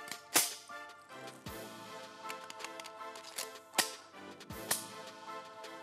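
A seized handgun is dry-fired to test that it works, giving a few sharp, crisp mechanical clicks and snaps spaced a second or so apart, close and clear over a quiet room.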